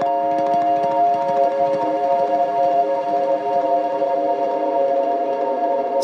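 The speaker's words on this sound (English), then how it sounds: "I actually strummed the harmonics, held it out, and then at the very end, I used the tremolo arm to let the pitch fall" Strummed electric guitar harmonics ring out as one sustained shimmering chord, loud and steady, with the tremolo arm easing the pitch gently downward near the end.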